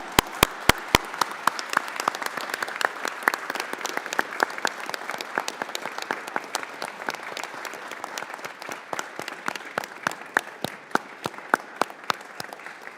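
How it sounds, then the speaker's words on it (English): People at a House committee hearing applaud, a moderate spread of claps with several sharp, close hand claps standing out over a softer background patter, continuing steadily without talk. "I just want to give him a big round of applause for his service."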